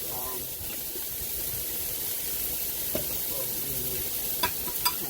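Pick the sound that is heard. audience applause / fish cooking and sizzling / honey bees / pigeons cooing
fish cooking and sizzling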